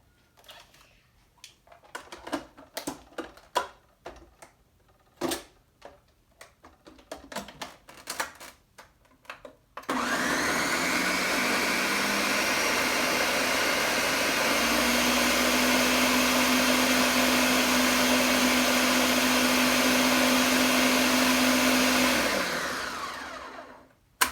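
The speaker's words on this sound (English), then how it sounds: "I can turn my blender on. So I'm going to go ahead and do that." Scattered clicks and clatter, then a blender making a shamrock shake roars on at full volume, whirring steadily and loudly for about twelve seconds before spinning down.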